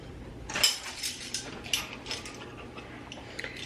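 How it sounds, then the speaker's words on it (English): A sugar mixture for cowboy candy stirred in a pot, with metal spoon clinks and scrapes against the pot over a low simmering background. "I'm going to make sure that we stir that up"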